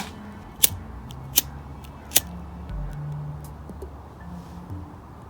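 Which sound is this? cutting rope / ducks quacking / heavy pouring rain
cutting rope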